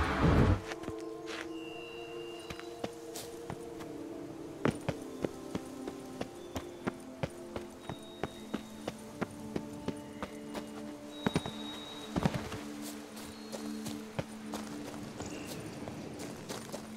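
A horse's hooves in The Witcher 3: Wild Hunt give a steady, even clip-clop rhythm over a long stretch, with sustained tonal game music underneath and a louder thump near the start.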